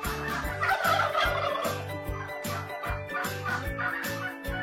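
Farm turkeys raised around a house in Bangladesh gobble repeatedly, a close, loud run of rapid rattling calls that recur every half second or so over a busy background.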